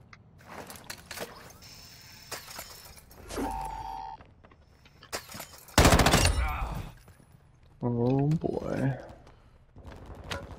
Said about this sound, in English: There's a lot of shooting down there.